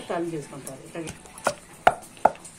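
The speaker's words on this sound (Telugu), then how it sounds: "బాగా ఇలా నూరుకుంటే బాగా మెత్తగా నలిగిపోతుంది" Cooked ridge gourd and tomato pieces, softened in oil, are ground in a stone mortar into chutney. A brief voice comes first, then several sharp knocks and scrapes land at irregular intervals, close by.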